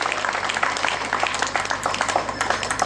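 Audience clapping at a live Kannada stand-up comedy show in Mysore, a dense, steady patter of many hands sustained throughout without a break.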